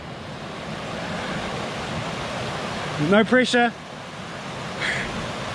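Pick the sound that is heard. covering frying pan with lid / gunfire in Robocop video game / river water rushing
river water rushing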